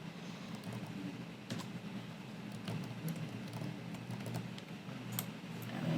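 Quiet, scattered clicks of typing on a computer keyboard in an office setting, soft irregular keystrokes over a faint background hum.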